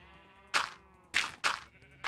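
Minecraft farm animals bleat in four short, bright cries spaced unevenly over a soft steady hum, with no talking.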